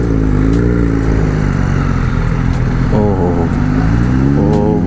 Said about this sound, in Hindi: और आवाज़ सुनो कितनी है यार इस बाइक की